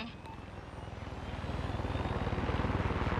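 A helicopter flies in the video game Far Cry 6, its rotor pulsing in a rapid, steady low thump that grows gradually louder and closer, with no one talking over it.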